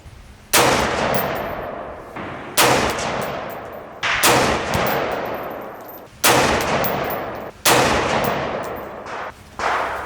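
224 Valkyrie rifle fired at targets on a range, five loud sharp shots spaced about two seconds apart, each followed by a ringing decay, with no talking.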